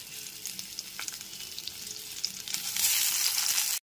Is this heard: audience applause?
no